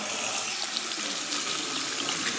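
Water runs steadily from a tap into a sink during washing, a constant close hiss and splash with no pauses and no voices.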